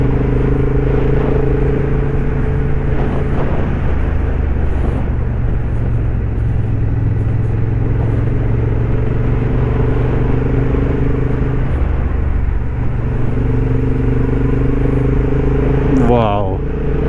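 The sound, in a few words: Honda CB750 motorcycle riding at high altitude in Himachal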